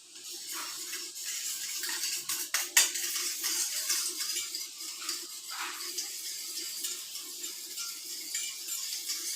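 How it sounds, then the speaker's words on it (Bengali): Yogurt (curd) is whisked in a bowl until smooth, with a close, steady run of quick scraping and clinking strokes and a brief louder knock partway through. No one speaks. "তার আগে আমি দইটা ফেটিয়ে নিই"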